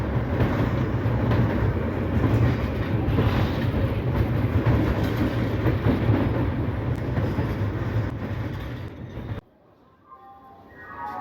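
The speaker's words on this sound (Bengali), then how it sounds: "ছটা বেজে 25 মিনিটে ধানবাদ স্টেশন থেকে ছেড়ে দিল শক্তিপুঞ্জ এক্সপ্রেস, উদ্দেশ্য হাওড়া স্টেশন" The Shaktipunj Express departs Dhanbad station at night, a steady loud rumble and rattle of the carriages that continues for several seconds before cutting out abruptly.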